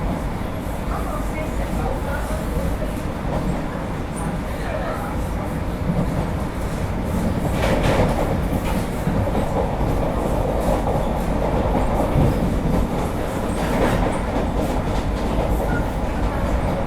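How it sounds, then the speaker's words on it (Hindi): Patna–Gorakhpur Vande Bharat express running at speed, heard from inside as a loud, continuous rumble with rhythmic clickety-clack of wheels over rail joints throughout. "बढ़िया स्पीड मेंटेन कर ली है ट्रेन ने अपनी"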